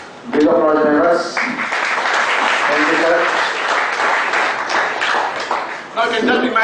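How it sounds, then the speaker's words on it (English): Applause from conference members at an audit and artificial intelligence event, a steady wash of clapping under a voice, with short spoken words at the start, middle and end. "Big applause, members."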